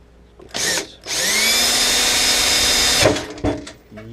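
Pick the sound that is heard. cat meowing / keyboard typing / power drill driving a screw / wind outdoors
power drill driving a screw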